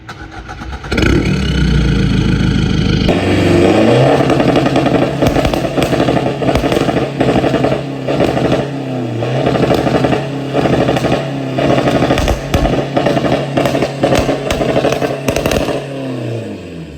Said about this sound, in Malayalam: നമുക്ക് ഈ ഒരു വണ്ടിയുടെ എക്സോസ്റ്റിനോടൊന്ന് കേട്ട് നോക്കിയാലോ?